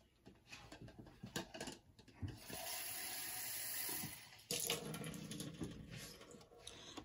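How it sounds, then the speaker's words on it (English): Water is poured from a tap or jug into a cup holding an ice cube, giving a steady pouring rush of several seconds, then a brief splash and trickle, close and fairly quiet. "And I want you to pour water in it."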